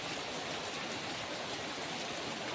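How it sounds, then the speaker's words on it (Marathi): Monsoon rain falling in Mumbai during the first rain of the season, a faint, even wash of steady patter with no voices. "आमच्या इकडे पाऊस आलाय."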